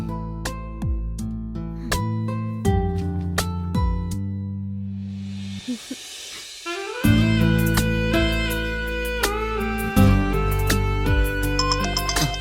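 A melodic electronic ringtone plays loudly and repeatedly, a bright looping tune with a brief quiet gap in the middle.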